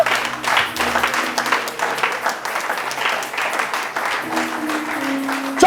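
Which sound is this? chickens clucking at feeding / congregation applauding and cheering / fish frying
congregation applauding and cheering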